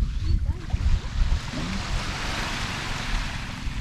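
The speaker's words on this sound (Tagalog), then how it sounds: "Medyo sumasama na yung panahon dito mga tangay. Mahangin-hangin na." Gusty wind buffets the microphone at sea near small paddle boats, a steady broad rush of wind and water with low rumbling thumps, no voices.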